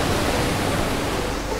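Steady broadband rush of running water, loud and continuous with no gaps, like a tap or shower flowing nearby with no voices over it.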